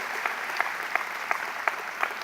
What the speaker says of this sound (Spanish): Sí, dale fuerte el aplauso a Él.